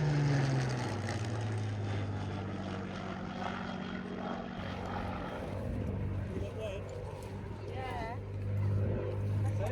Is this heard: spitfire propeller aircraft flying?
yes